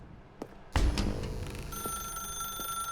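A telephone in The Stanley Parable video game rings with a bright, sustained electronic bell after a loud thump, and the ringing carries on steadily to the end.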